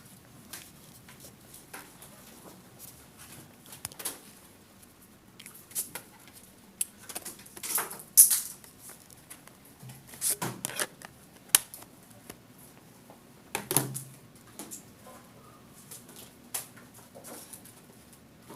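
Calculator buttons are tapped to enter the natural log of 0.5 divided by negative 0.18: faint, close, irregular plastic key taps in scattered clusters, with quiet pauses between them and no talk.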